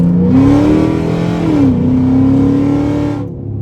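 A car with a limited slip differential putting power through both rear wheels accelerates hard, its engine note rising steadily and loud and close, with a brief gear change dip midway before pulling again and fading at the end.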